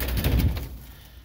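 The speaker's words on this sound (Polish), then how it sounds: "Latają, trzepoczą," Quails flapping their wings in a brief flurry of soft feathery beats that fades within a second, close by and with no talk.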